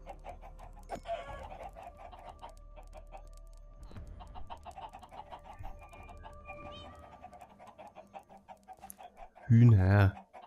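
Chickens in the Minecraft video game cluck in a busy, continuous clucking over several seconds, with a louder burst near the end and some talk underneath.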